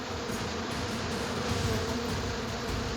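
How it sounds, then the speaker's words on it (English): Honeybees swarm around a honeycomb built on an electrical unit, a dense, continuous buzzing drone from many insects close by, steady throughout with no voices. "There's a lot of bees, and they develop their honeycomb around the electrical unit."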